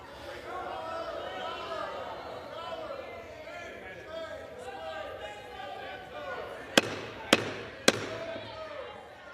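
A gavel bangs three times in the House of Representatives, sharp loud raps spaced about half a second apart, coming after a stretch of people speaking in the chamber.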